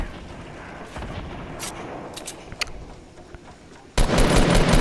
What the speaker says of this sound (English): Now he's gonna launch some grenades at us, and we're gonna fire back.